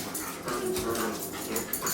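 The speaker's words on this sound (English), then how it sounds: "If these dogs don't stop motherfucking" Several dogs barking and whimpering indoors, a steady run of yips and whines close by, fairly loud throughout with no talk over them.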